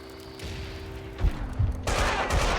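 Gunfire in the video game Max Payne 2: a short, muffled volley of shots with a few heavier thumps and a brighter burst near the end, set against a steady background hum.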